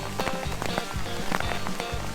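Hail pouring down hard onto a patio, a dense, continuous rattling patter of hailstones with scattered sharper impacts, close and steady throughout.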